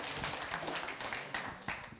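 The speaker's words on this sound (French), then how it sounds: "je crois qu'on peut applaudir nos 4 intervenants pour la table ronde" An audience at a round table discussion applauds its four speakers, a soft, fairly distant patter of clapping hands that continues steadily throughout.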